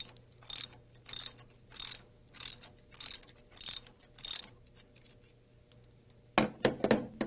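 A socket wrench with a 7/16-inch socket loosens the bolt on the slider ball ring clamp of a RotorWay 162F helicopter, giving seven evenly spaced bursts of ratchet clicking, then a louder clatter of metal at the end.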